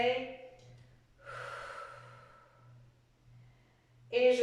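An inhalation taken during a foot stretch, toes being placed, comes as a soft, airy breath lasting about a second, set between bits of nearby voice at the start and end over a low steady hum.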